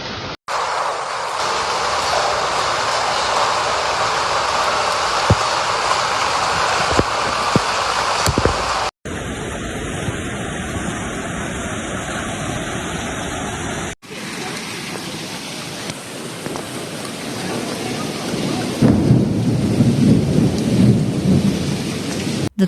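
A thunderstorm in Caravaca, Murcia, brings loud, dense heavy rain and hail with rolling thunder, heard across several abruptly joined recordings of continuous downpour.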